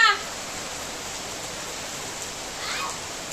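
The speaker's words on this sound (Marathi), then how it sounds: "बघा बाहेर पाऊस चालू" Steady rain falls outside a village house in Nashik, a soft even hiss held at a constant level with a faint swell near the end, no voices over it.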